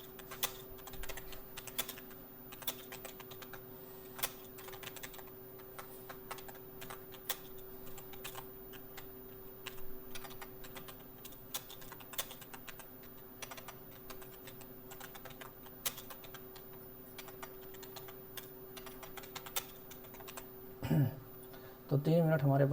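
Steady, rapid clacking of computer keyboard keys during a timed typing test, close and continuous for the whole stretch, with a brief voice near the end.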